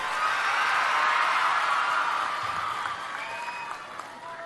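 An audience at a school parent-teacher meeting in Rampachodavaram claps loudly together, a dense burst of applause with a few whoops that slowly tapers off.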